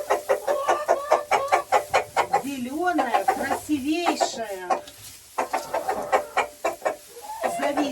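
Hens cluck softly in a coop as a woman brings them grass and talks over them, with a few higher squawks mid-clip.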